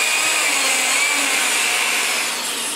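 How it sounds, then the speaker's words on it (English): A power drill bores holes into wood to hold cable-hanging hooks above a coral frag aquarium, giving a steady, close, fairly loud whirring grind that holds level for nearly three seconds and fades slightly at the end. "drilling holes to mount the hooks to hang the cables"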